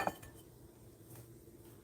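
A single sharp clink of dishes comes at the start as a stir-fry egg roll in a bowl is plated, followed by faint, quiet kitchen handling noise.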